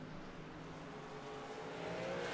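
Racing trucks lap Lime Rock in iRacing, their engines a faint, steady droning hum with a slight rise in pitch near the end, heard alone without talk.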